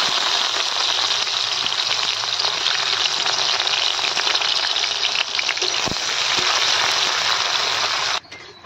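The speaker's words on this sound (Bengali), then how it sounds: "এখন গরম তেলের মধ্যে পেঁয়াজগুলো দিয়ে পেঁয়াজগুলো ভেজে নেব।" Sliced onions fry in hot oil in a kadai during village-style home cooking, a loud, dense, continuous sizzle that runs unbroken for about eight seconds before cutting off abruptly.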